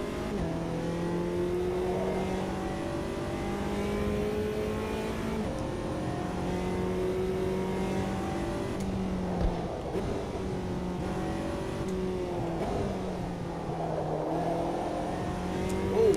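McLaren race car in the sim racing game Automobilista 2, its engine droning steadily with rising and falling pitch through gear changes and throttle shifts, loud and continuous for the whole stretch without talk.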